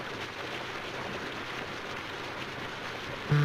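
Steady rain falls as a constant soft hiss in a Joan Crawford film, a moderate even wash throughout, ending with a brief low tonal hum.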